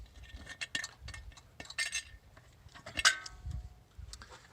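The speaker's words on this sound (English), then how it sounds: "It does have a 600 CFM Holley, which we'll quick take off our air cleaner here." An air cleaner comes off a 600 CFM Holley carburetor on a 454-powered 1970 Chevrolet Impala, heard as scattered light metallic clinks and taps, quiet and close, with soft handling noise between them.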